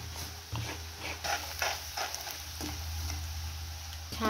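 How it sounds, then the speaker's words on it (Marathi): Onion sautéing in hot oil in a home kitchen pan, a steady close sizzle and crackle with occasional scraping stirs, no talk. "आता इथे तेल तापायला ठेवलेले आहे, तर मी कांदा परतायला टाकते।"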